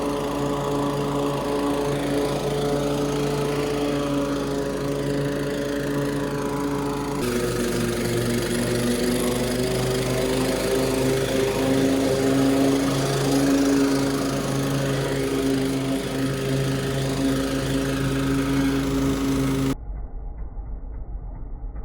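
Lawn mower cutting a residential yard on a solo mowing workday, a steady close engine drone holding its pitch for about twenty seconds before cutting off abruptly into a quieter hum.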